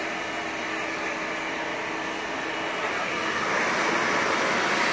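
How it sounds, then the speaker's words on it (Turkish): A powerful 3500 turbo hair dryer blows hair in a steady, loud, broadband whoosh that swells slightly toward the end, with no talking over it. "diyelim 3500 turbo bir fön kullanıyoruz. Gayet kuvvetli bir fön."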